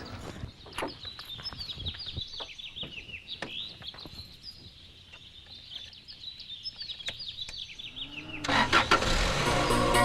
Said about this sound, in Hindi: आप जरा गाड़ी स्टार्ट करेंगे प्लीज?